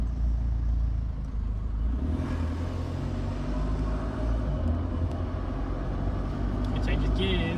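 Low rumbling engine of a Duramax diesel-swapped Nissan Pathfinder 4x4 driving along, steady and close, with faint shifts in pitch as the gears change; no speech.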